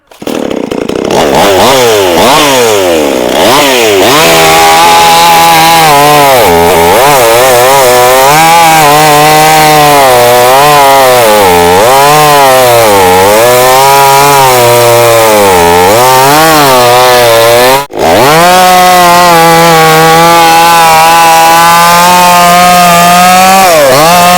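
A restored chainsaw bought from a scrap shop cuts through dry, hard wood, its engine loud and close, revving and bogging in waves through a continuous cut with a brief dip near the end.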